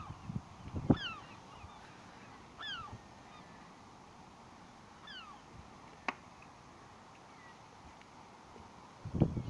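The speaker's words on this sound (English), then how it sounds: "Did you hear that seagull then?" Seagulls calling near a crabbing spot at Deganwy: a few faint, short, squawking cries spaced out over quiet background, with a couple of louder knocks or bumps nearby.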